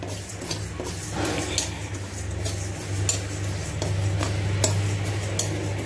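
Sesame seeds are roasted in a pan, giving a steady low hum with light scraping and clinking from stirring, plus scattered small taps throughout.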